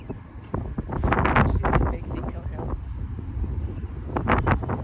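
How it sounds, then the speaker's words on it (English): Strong wind from a storm gust front during a tornado warning in Timmins, Ontario, a loud continuous rushing roar buffeting the microphone, with people talking over it. "Here we go with the gust front."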